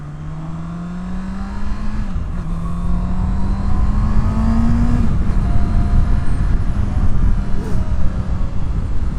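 A Honda CB650R 650cc four-cylinder motorcycle rides along, its smooth engine tone climbing steadily, dipping briefly at a gear shift and climbing again, heard close over loud wind rush.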